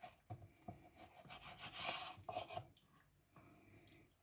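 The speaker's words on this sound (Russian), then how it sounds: "разрезаю по суставу и еще разочек разрезаю" A knife cuts through raw chicken leg quarters at the joint, producing close, wet rubbing and crunching scrapes in short bursts, fairly faint with no talk.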